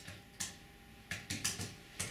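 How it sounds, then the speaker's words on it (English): Keys clatter on a computer keyboard as text is typed into Microsoft Word: several separate clicks in irregular bursts with short pauses between them, close and fairly quiet, with no talking. "I can just type in some text on my keyboard"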